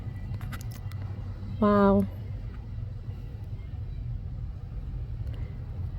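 Classic cars in a line-up cruise past an antique mall, engines rumbling low and steady nearby while a horn honks briefly partway through and a person exclaims.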